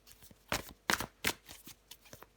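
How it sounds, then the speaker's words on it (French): Tarot cards are shuffled and drawn close by, a run of crisp flicking slaps and riffles in irregular bursts, fairly quiet, with no voice over them. "je prends encore une carte pour vous, les scorpions"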